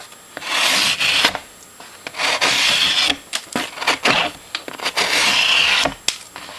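Cold Steel AK-47 folding knife with a hollow-ground blade and G-10 handle slicing through cardboard, giving repeated close, rasping scrapes in bursts with brief pauses between strokes, no talking.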